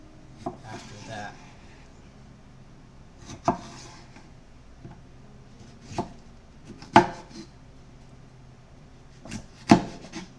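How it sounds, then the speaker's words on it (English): A knife cuts bell peppers into strips on a wooden board, giving a few distinct, spaced thuds with soft scraping between them, close and alone with no talk. "So with the peppers, how I'm gonna chop them is into strips and then, like, I guess horizontally"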